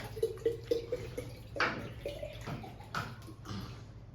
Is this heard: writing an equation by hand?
no